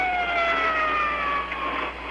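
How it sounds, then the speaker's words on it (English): An Israeli military ambulance siren wails steadily as the vehicle carries wounded soldiers away from fighting toward a rear hospital, the loud, sustained two-tone sweep close and continuous with no speech. "An Israeli ambulance carrying casualties from today's fighting hurries back to a hospital at the rear."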